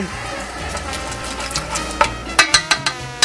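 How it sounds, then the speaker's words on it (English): A spoon stirs crawfish étouffée in a cooking pot, making a soft sizzling simmer. Several distinct scraping and clacking strokes against the pot come in a quick rhythm near the end, close and clear, with no talking. "Give that a little bit of stir."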